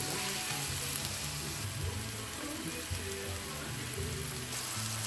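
Thinly sliced bitter gourd frying in hot oil in a nonstick pan, a dense, loud crackling sizzle close up and continuous throughout.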